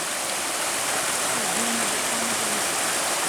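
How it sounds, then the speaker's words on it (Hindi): Waterfall pouring steadily along the Rudranath mountain trek, a dense continuous rushing roar close by, with a faint tonal murmur partway through. "जो ये झरना आ रहा है"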